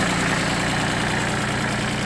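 A Shibaura P15F compact 15-horsepower mini tractor with a rotary tiller idles in a steady, loud, continuous low drone that stays even throughout, with no talk.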